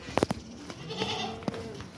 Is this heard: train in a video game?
no